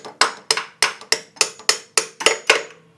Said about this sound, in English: so I got to use the old claw hammer.